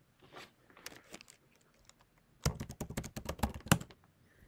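Keys tap softly on a computer keyboard as a password is entered, a few scattered strokes and then a dense run of quick, close clicks with no talking.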